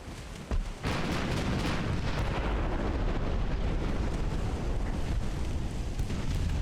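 Heavy booming salvos from 12-inch naval guns on a dreadnought battleship in Ultimate Admiral: Dreadnoughts, a loud opening blast followed by continuous rumbling gunfire and explosions rolling on without pause.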